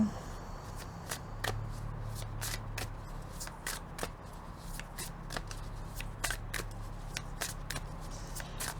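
Tarot cards are shuffled and laid out one by one, producing a series of crisp, close riffles and slaps in an irregular rhythm over faint background hum.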